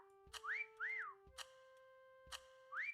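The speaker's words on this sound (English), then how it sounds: "Would you quit whistling, whoever that is?" Someone whistles nearby: a few short, bright notes that swoop up and down, repeated in a loose pattern, with faint clicks between them and no talking.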